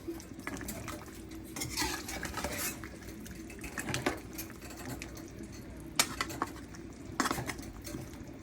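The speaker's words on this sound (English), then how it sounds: "So at this moment, the oxtail is boiling" Oxtail simmering in a pot for Jamaican-style stew, giving a steady low bubbling bed with occasional clinks of a utensil against cookware and soft stirring scrapes, close by with no talk.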